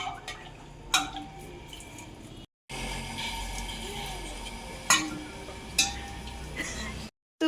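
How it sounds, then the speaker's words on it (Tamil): Water scooped up by hand and poured over garden plants, with splashes and sharp drips at a few moments against steady rushing noise, close by and fairly quiet. "அவளே ரொம்ப ஆசையாக தண்ணி அள்ளி ஊற்றிட்டு இருந்தா"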